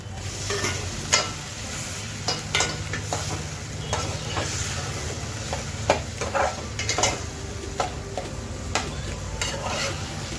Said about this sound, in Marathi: आता हा टोमॅटो चांगला मऊ होईपर्यंत परतून घ्यायचा.